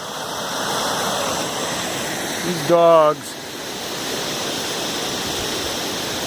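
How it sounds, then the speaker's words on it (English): A strongly flowing waterfall roars steadily throughout as a broad, constant rush of water, while a person speaks briefly over it near the middle. "The waterfall has totally opened up."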